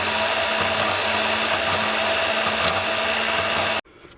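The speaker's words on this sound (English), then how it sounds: "here's a 3/16 metal I'm cutting on my Swag bandsaw" Swag bandsaw cutting through 3/16 metal in a shop, a loud steady whining drone with a constant tonal hum that runs for nearly four seconds and then cuts off abruptly, leaving faint room noise.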